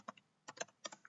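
Keys clatter on a computer keyboard in a quick uneven run of about six or seven close, crisp taps, with short gaps between clusters and no talk.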